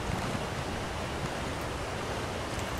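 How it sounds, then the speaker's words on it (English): A loud river rushing in the video game Elder Scrolls Online, a continuous, even wash of water noise with no breaks or voices. "That river was rather loud."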